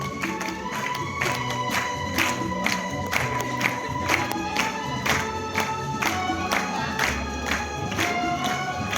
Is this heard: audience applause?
yes